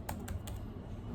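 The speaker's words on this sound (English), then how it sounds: "So I'm going to put in my username by typing" Three quick, faint keystrokes tap on a laptop keyboard while a username is entered, crisp clicks close to the microphone over a quiet room hiss, with no voice.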